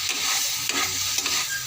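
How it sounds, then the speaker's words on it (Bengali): Vegetables being stir-fried in a hot pan, with a steady broadband sizzle and repeated scraping strokes of a spatula, close and fairly loud with no voices. "ভালো করে সবজিটা কষিয়ে নেবো।"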